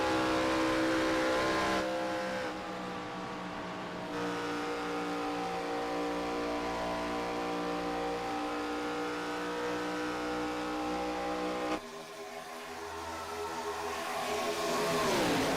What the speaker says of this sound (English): I still absolutely love the way these cars sound.